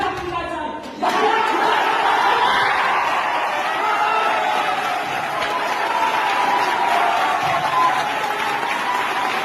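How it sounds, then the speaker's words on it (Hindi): Sustained applause from a sizable comedy roast audience after a brief quieter moment, steady clapping with scattered cheers and voices mixed in. "बजाओ तालियां बजाओ"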